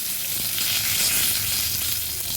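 A bay leaf sizzles in hot oil in a pan, a loud, steady, dense crackling hiss heard close with no voices.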